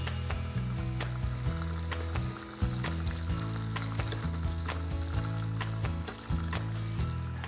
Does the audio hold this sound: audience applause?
no